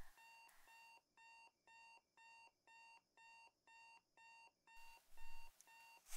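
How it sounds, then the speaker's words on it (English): An alarm clock rings in the video game Football Game, set in a small 1980s-90s town: a steady, evenly spaced series of short electronic beeping bursts, fairly faint, before a louder rustling thump near the end. "I love the sound of an alarm, just doesn't trigger me at all"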